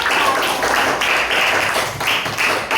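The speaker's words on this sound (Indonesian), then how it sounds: "Tepuk tangan untuk kelompok 1." Students in a primary school classroom clap for the first group after a water-cycle experiment, a dense, steady burst of hand claps that carries on through the whole stretch, close and loud.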